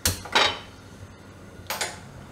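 A metal tava griddle knocked and set down on a gas stove while making dudhi thepla: a sharp clang followed by a second ringing clatter, a short pause, then another metallic knock, all close and clear.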